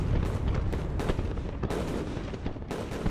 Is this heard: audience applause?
no